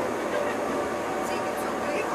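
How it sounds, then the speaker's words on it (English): A 120-year-old cog railway train climbing Mount Pilatus in Switzerland gives a steady, loud rolling rumble and clatter that fills the whole stretch without pause, with faint squeaks drifting through. "We are taking the train up the mountain, Mount Pilatus."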